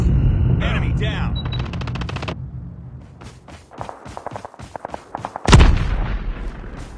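Call of Duty Mobile gunfire comes as rapid rattling bursts of shots, then sparse single cracks and a heavy boom near the end, mixed with game voice lines.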